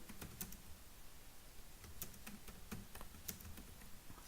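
Soft, steady keystrokes on a computer keyboard tap away during touch-typing practice, quiet and fairly even in rhythm with a few sharper clicks, and no one speaks.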